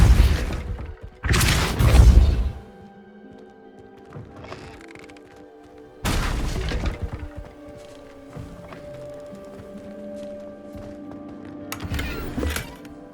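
Repulso spell blasts in the wizarding game Hogwarts Legacy land as three separate heavy booming thumps spaced several seconds apart, with quieter ambient clatter and faint tones between them.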